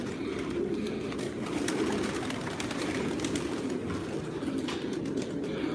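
Pigeons cooing in coops holding about 400 birds in Osmaniye, Turkey: a soft, steady murmur of overlapping low coos that fills the whole stretch, with faint rustling and no talk.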